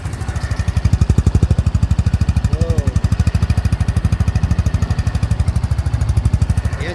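A Benelli Panarea 125 scooter engine idles steadily nearby, its fast even putter holding a constant rhythm throughout with a faint chirp partway through.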